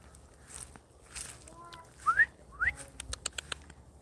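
A pet bird gives two short, rising whistles in a quiet room, followed by a few soft clicks and taps.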